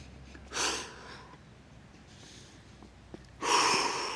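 Deep breaths drawn during a flutter kick exercise in a lower back workout, two strong airy breaths near the start and end with a fainter one between, close and fairly quiet, no talking.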